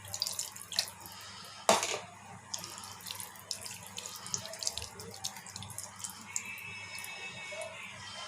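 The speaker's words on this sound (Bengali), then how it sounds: "এখন অল্প একটু ঝোলের পানি দেব।" Water running and splashing for a fish curry broth, with a sharp clank of cookware near the start followed by a quiet, close stream and scattered drips.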